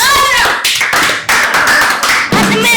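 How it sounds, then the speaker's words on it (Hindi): Audience clapping during a comedy interview show, loud and close, arriving in several short bursts with abrupt breaks between them. "तालियां हो जाए।"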